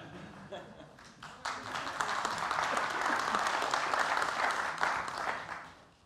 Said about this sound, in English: I usually get a round of applause when we say that.